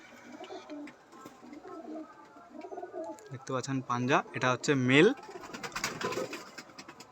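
Pigeons coo in a loft kept for Madrasi breeding pairs, repeated throaty coos rising over a voice talking nearby, louder and closer in the middle, with other birds faintly in the background.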